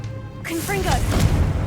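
A Confringo blasting spell in Hogwarts Legacy bursts into a loud, rumbling explosion with a whooshing, crackling tail, starting abruptly after a moment of near quiet, with a voice heard alongside it.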